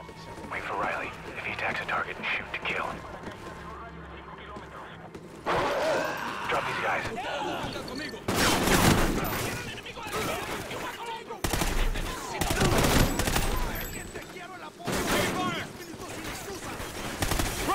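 Bursts of rapid automatic gunfire in the video game Xenophobia 2, loud volleys repeating in clusters with sharp crashes between them, while voices talk over parts of the fighting.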